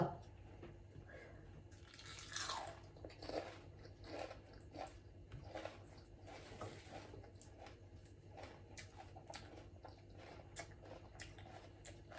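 Crunchy Thai long-bean salad (tam tua) being bitten and chewed, eaten alongside mussels with seafood dipping sauce; repeated close crunches and wet chewing continue steadily throughout, with faint background noise.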